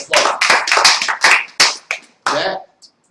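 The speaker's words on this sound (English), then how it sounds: "give yourself a round of applause" A small audience giving a round of applause at a training session, a few nearby hands clapping in short uneven bursts that quickly thin out and stop, loud and close.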